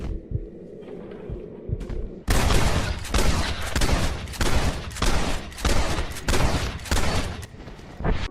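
Rapid volleys of gunfire from a Red Dead Redemption dead eye sequence burst out loud after a quieter lead-in, rattling in dense bursts with short gaps before trailing off, with no talking over them.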